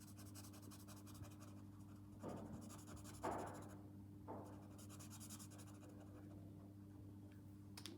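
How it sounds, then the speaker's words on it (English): Felt-tip pens colouring in on paper, a steady soft scratching and rubbing of strokes close by, with a few louder scrapes partway through over a constant low hum. "Quite like the sound it makes when you colour"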